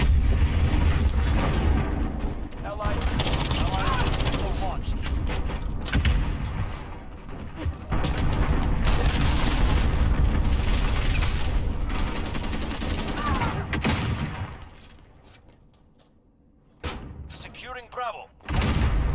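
Cruise missile strikes in a Call of Duty MW match, heavy booming blasts and rumbling debris layered with scattered gunfire, loud for most of the stretch before dropping to a lull and flaring up again, with voices over it.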